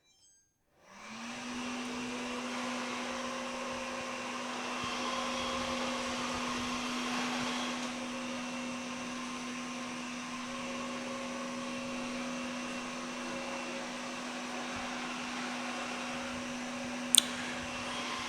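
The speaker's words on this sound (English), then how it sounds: "A nice feature on this is that the vac itself will automatically adjust its power to what type of surface it's on" A Samsung Powerbot R7040 robot vacuum cleaner starts up and runs with a steady whirring hum and a constant motor tone, close by and alone, with one sharp click near the end.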